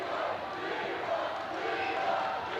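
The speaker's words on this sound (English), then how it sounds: "The crowd chants Leroy in appreciation of the block shot" A crowd at a high school district semifinal basketball game between Warren Central and Greenwood chants a player's name after a blocked shot, a steady loud massed roar of voices filling the gym.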